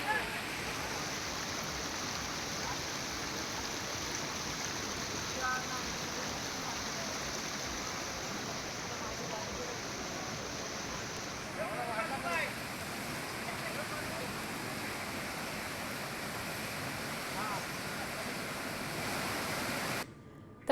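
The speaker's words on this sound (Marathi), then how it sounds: "कोदवली नदी सध्या इशारा पातळीवर वाहतीये" Flooded Kodavali river at Rajapur rushing after heavy rain, a steady broad roar of fast water lasting throughout with no pauses, loud and close.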